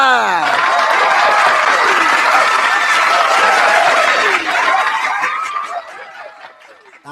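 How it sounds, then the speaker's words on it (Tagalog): Studio audience breaking into applause mixed with chuckles and crowd noise on a Filipino political talk show, loud and continuous for several seconds, then fading out near the end. "Palakpak!"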